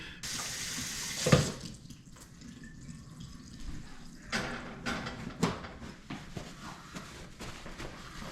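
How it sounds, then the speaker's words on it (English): A kitchen tap runs steadily as hands are washed at the sink, a continuous close hiss of water with a few louder splashes and clatters partway through. "I'm going to wash my hands"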